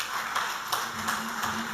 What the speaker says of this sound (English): A great round of applause for our comrade.